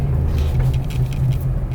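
Car engine during a test drive, a steady low rumble with slight rises as gears shift from first to second, close and continuous with no talk over it.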